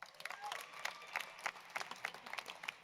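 An audience applauds at a student-athlete graduation celebration for university athletics, a brief burst of many hands clapping in a hall, moderately distant and fairly quiet, with faint murmuring under it.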